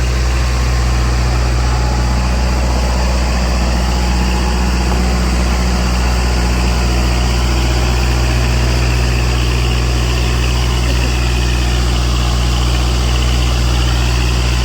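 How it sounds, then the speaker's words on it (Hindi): A 2434 cc naturally aspirated engine without a turbo idles with a loud, steady, low droning hum and constant vibration, unchanging throughout, with no talk over it. "इसके अंदर जो इंजन है वो नेचुरली एस्पिरेटेड इंजन है, कोई टर्बो वगैरह नहीं है लगी हुई।"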